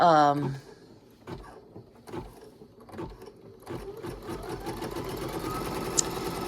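A home embroidery machine stitches a fabric placement line, its needle thumping in a quick mechanical rhythm that builds into a continuous whirring run, close and fairly loud, after a short spoken moment at the start.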